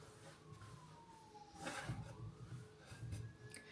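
A distant ambulance siren wails with a faint sliding pitch, passing by at low volume over a soft background hum.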